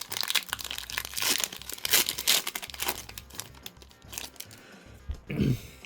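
Crinkly foil wrapper of a Pokémon card booster pack being torn open and crumpled, a string of close, sharp crackles and rustles with brief pauses.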